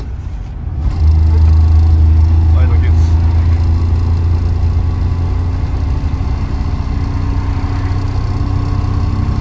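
The small engine of a vintage IFA Framo van idles and revs steadily, a low droning hum running close and continuous, with someone speaking briefly at the start.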